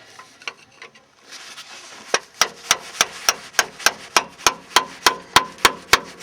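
A screwdriver is driven against the rear axle cover of a Ford F-150 with a 9.75 axle to break the seal. After a few light knocks, sharp metallic taps repeat steadily close by, growing louder and slightly quicker.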